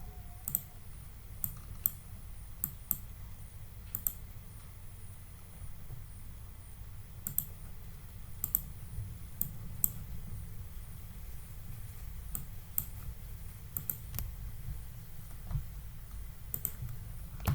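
Computer mouse clicks in design software, sharp single clicks scattered irregularly over a low steady hum, close and fairly quiet, with no talking.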